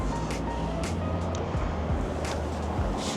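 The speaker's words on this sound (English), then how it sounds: "it's very noisy in the car, as you can tell from the video" Steady low rumble of road noise inside a moving BMW 335i E92, a constant droning hum with occasional thumps and rattles, no voices.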